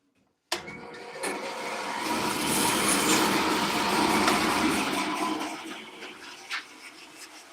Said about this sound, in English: I'm going to put this on the big bandsaw, and we're just going to trim it.